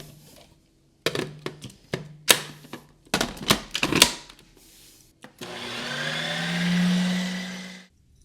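Ninja Creami machine spinning a pint of coffee ice cream: a run of sharp clattering knocks, then a steady loud whirring drone that swells and cuts off near the end.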